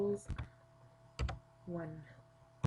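A few short bursts of computer keyboard typing, close by and fairly quiet, with gaps between them and a faint steady hum underneath.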